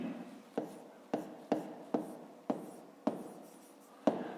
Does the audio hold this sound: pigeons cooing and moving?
no